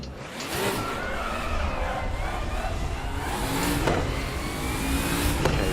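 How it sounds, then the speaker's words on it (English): Opel DTM 92 race car engine in the Raceroom video game, a steady mid-pitched drone with a slowly rising rev tone, thin and somewhat electric-sounding, held at even loudness throughout with no talk. "The engine sounds very empty."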